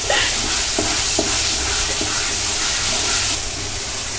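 Puli pitha fries in a pan with a loud, steady, close sizzle, broken by a few soft scrapes of stirring and no voices.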